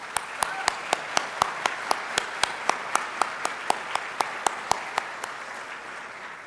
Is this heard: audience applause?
yes